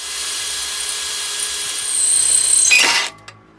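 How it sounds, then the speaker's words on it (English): A power drill whines steadily as it bores out old rusty rear suspension bolts, rising in pitch and load near the end before stopping abruptly. "Drill out the old bolts."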